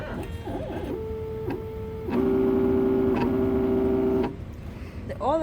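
An engraving machine runs with a steady electronic whine and hum, rising louder for a couple of seconds with a stronger buzzing tone, then dropping back; close, with clicks and brief mechanical noises around it and no clear speech.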